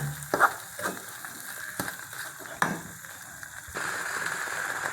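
Amla (Indian gooseberry) jam boils in a pan with a soft bubbling hiss, while a spoon stirs it with scattered scrapes and knocks. The hiss grows steadier and louder toward the end.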